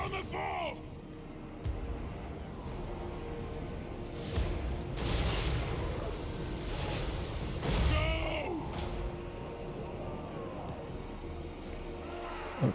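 Gunfire rattles at Nurglings in the Warhammer 3 video game, with rolling volleys and booming battle noise building in waves amid shouting voices and background game music.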